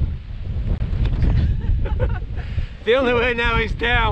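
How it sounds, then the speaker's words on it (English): Fierce wind on a mountain summit along the Coast to Coast walk in the Lake District, a loud continuous rumbling buffet against the microphone, with walkers talking over it. "It's blowing an absolute hoolie."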